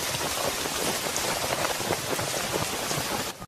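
Heavy rain pours down steadily over farm crops, a dense, continuous hiss of drops striking the surface that holds at full strength before cutting off abruptly at the end.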